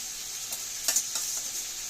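Garlic paste hits hot oil in a pan with fried potatoes while cooking a Bengali fish-bone chorchori, giving a steady bright sizzle with a few sharper crackles and stirring scrapes, close and alone.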